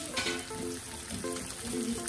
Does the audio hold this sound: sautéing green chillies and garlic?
yes